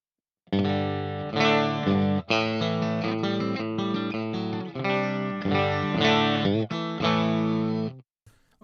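Electric guitar played through a Fractal FM3 amp modeler preset with chorus and drive, sustained chords in several phrases with brief pauses, clear and upfront with no talking.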